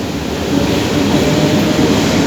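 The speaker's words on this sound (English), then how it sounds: "There you got the train going by" A metro train in Belgrade, Serbia rumbles past close by under arched roofs, a steady loud low roar with rattling wheels filling the whole stretch, no voices.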